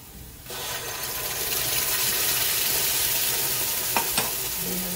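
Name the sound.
frying ground masala paste in a pan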